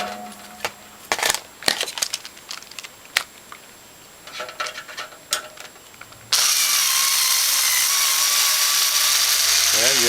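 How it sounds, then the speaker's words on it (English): A hand tap tool runs an 8-32 thread on a Norwalk juicer part, giving close metallic clicks and ratcheting scrapes in irregular bursts, followed by a sudden loud, steady broadband hiss that continues to the end. "Tap it with the tap tool to make sure that the 832 thread runs true."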